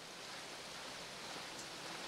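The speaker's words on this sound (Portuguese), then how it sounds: "Está chovendo" Steady rain falling in a residential street, a dense continuous hiss with no distinct drops standing out, fairly faint and unbroken throughout.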